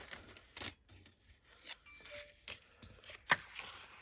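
Scissors snipping through paper die-cut frames, quiet close snips and small rustles and a sharp clink, with no talking.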